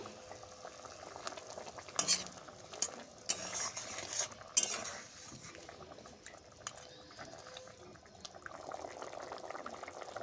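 Small hilsa fish simmer in a mustard and green chilli gravy while a spoon stirs the pot, giving soft bubbling with occasional sharp clinks of utensil against pan.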